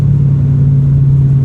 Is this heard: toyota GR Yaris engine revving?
yes